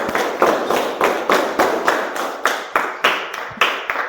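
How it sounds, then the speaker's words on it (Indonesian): Classroom applause from a small group of students, clapping in a rhythmic unison pattern of sharp, evenly spaced claps, close and fairly loud with no talking. "Tepuk tangan untuk dia."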